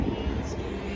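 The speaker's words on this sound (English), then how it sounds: "even got private helicopters just landing and bringing people in and out" Aircraft engine drone at a luxury car show where private helicopters land and ferry guests, a steady distant rumbling hum with no distinct beats, heard alone.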